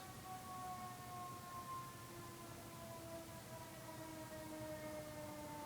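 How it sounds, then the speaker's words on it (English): A distant siren wails steadily in the background, its long rising and falling tones drawn out over a low rumble of ambient noise. "I think we have a siren in the background."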